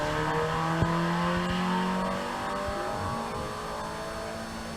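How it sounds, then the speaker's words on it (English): A Datsun 1600 engine revs out on a race circuit, a sustained, rising engine howl from a moderate distance that gradually fades as the car moves away. "Lovely to hear that 1600 engine revving out down the bottom end of the circuit."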